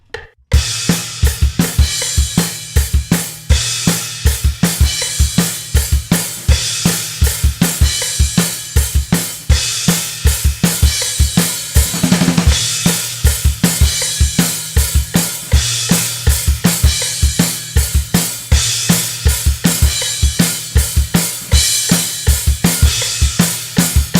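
A drum beat at 160 bpm with crashes, steady driving kick and snare hits under washy cymbal crashes, loud and close, continuous for the whole stretch.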